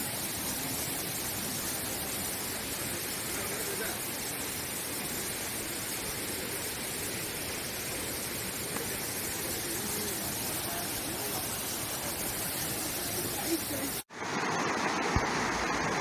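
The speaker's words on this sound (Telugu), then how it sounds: "ఇదిగో ఇవే చేపరాయి వాటర్ ఫాల్స్. వాటర్ ఫాల్స్ అనే కంటే వేగంగా ప్రవహించే కొండవాగు అంటే కరెక్ట్గా ఉంటుందేమో." Steady roaring rush of the Chaparai waterfalls, a fast-flowing mountain stream in Araku valley, a dense continuous wash of water that cuts off abruptly near the end, followed by quieter ambience.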